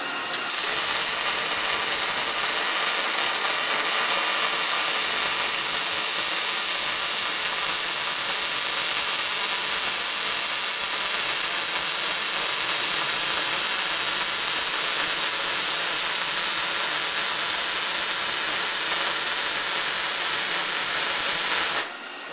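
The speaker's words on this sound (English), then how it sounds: "Well, I think I got a good weld all the way around." Steady, dense electric hiss of welding a seam around a steel oil quench tank for knife blades, running unbroken and loud for about twenty seconds, alone with no talk.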